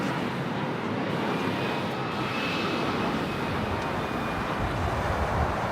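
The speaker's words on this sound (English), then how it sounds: "United Airlines Flight 2374 heading to Phoenix, Arizona on this 737 MAX 9" United Airlines Boeing 737 MAX 9 bound for Phoenix taking off at LAX, a continuous broad jet engine roar with a faint high whine, steady and moderately distant, no voices.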